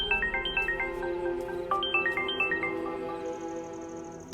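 A melodic phone ringtone signals an incoming call, its repeating bright note pattern playing loud and clear for several seconds before fading into a steady high tone, with no talking.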